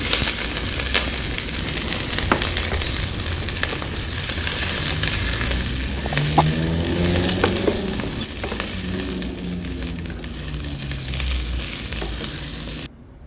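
Vegetables frying in a Kadonio multipurpose pot, a close, steady sizzle broken by repeated spatula stirs and scrapes, with a brief faint tonal whine partway through and no voices over it.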